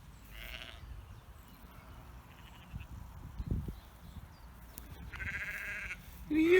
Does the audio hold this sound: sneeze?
no